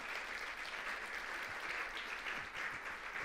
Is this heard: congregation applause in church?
yes